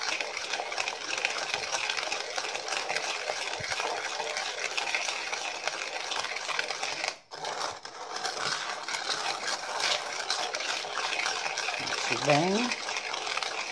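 A spoon stirring chocolate powder and sugar into a glass of water for a milk-free chocolate cake, a continuous swishing, clinking rattle heard up close for most of the stretch.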